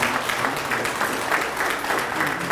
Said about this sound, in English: thank you for the round of applause.